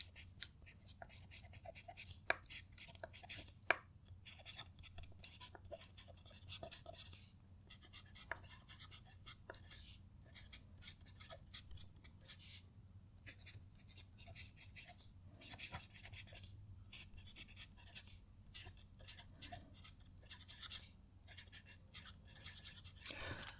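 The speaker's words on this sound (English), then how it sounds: "I love listening to the Visconti write" A Visconti fountain pen with a very wet nib writing across paper, faint soft scratchy strokes in uneven bursts with short pauses between words, close up and quiet, with no talking.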